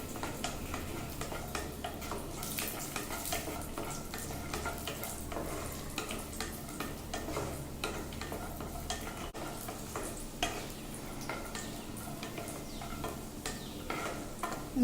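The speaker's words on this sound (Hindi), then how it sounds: "ड्राई फ्रूट को हल्का रोस्ट करना है। इसमें किशमिश भी ऐड कर ले रहे हैं।" Dry fruits and raisins being lightly roasted in ghee in a pan for Kashmiri pulao, with a steady soft sizzle and frequent stirring scrapes throughout, close and moderately quiet.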